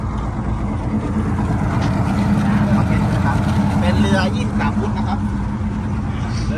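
A 23-foot Seaswirl Striper motorboat runs steadily on the water, its engine drone loud and constant with wind and water noise, while someone talks over it.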